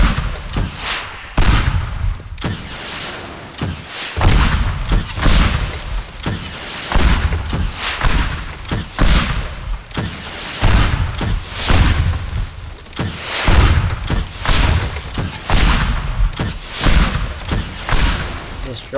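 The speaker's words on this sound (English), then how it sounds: "I'm gonna use a rocket launcher." Rocket launcher blasts in the destruction game Teardown, loud booming explosions and crumbling debris bursting one after another at a mansion, with a voice talking among them.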